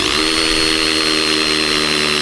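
A power tool drives 12-inch spikes into dense wood for a backyard retaining wall, a loud, steady, close motor whine that runs without a break.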